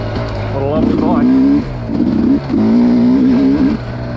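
A 2021 Sherco 300 SE Factory two-stroke dirt bike engine revs up in a few loud, close bursts, rising and falling between pulls with a rough idle underneath.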